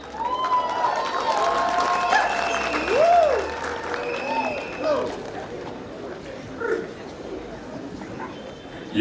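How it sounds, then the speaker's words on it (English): Audience applause at the RCTI 2025 graduation ceremony, a sustained broad clatter of clapping beneath a voice speaking over a microphone and scattered crowd sounds. "A round of applause to them once again"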